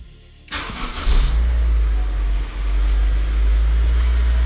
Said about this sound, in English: Car starts without the clutch pressed in.